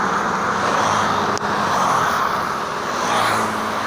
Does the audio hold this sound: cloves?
no